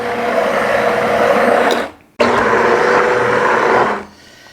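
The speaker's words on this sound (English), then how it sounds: "I'm going to go to work on that with my immersion blender, and we're going to blend that till it's smooth." An immersion blender whirs steadily through a batch of tomato sauce for pizza, running loud and continuous, cutting out briefly, then starting again before stopping, with no talking.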